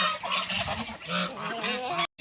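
Geese on a farm honk loudly and repeatedly, several birds calling over one another in a dense, nasal chorus close by that cuts off abruptly near the end.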